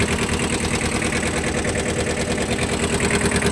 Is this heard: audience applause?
no